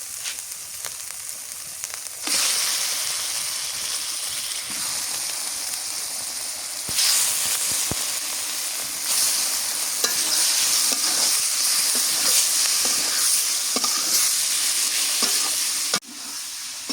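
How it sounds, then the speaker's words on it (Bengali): Beef liver added to fried spices sizzles loudly in a pan on a stove, a brief softer start before a strong continuous hiss with occasional spatula scrapes, no talking. "মশলা কষানো হয়ে গেছে, এবার কলিজা দিয়ে দিই।"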